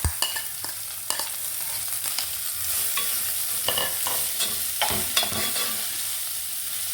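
Chopped purple cabbage and onion stir-fry with curry leaves in a pan, sharp spatula scrapes and taps landing irregularly over a soft, steady sizzle, close by and without talk.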